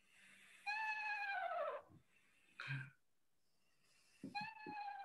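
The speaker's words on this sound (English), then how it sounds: "And then finally, the eastern screech owl." An eastern screech owl gives a descending, quavering whinny, two drawn-out tremulous calls separated by a short pause, with a brief breathy sound between them, fairly clear against a quiet background.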